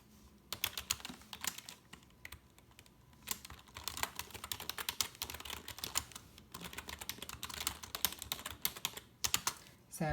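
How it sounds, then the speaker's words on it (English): Computer keyboard typing, close and steady, with quick irregular key clicks running throughout and brief pauses between bursts. "I like to go ahead and type that here"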